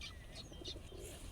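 Faint soft cooing of pigeons at a pigeon festival, with a few light chirps, distant and quiet against low background rumble.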